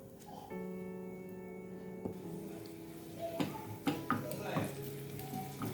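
Shallots frying in coconut oil with curry leaves in a pan, a steady close sizzle with occasional stirring clicks and scrapes toward the end, no talking.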